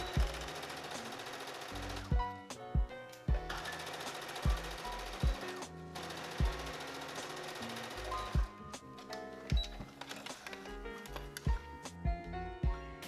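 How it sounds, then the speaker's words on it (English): Sewing machine stitching fabric hat band pieces together down both sides for a reversible bucket hat, running in bursts of steady mechanical chatter with short pauses and thumps between runs, close and fairly loud. "I'm going to sew them together down either side here."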